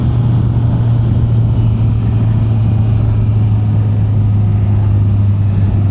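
Motorcycle ridden along a road during a beginner riding lesson, its engine a loud, continuous drone mixed with heavy wind rush and no change in pace throughout.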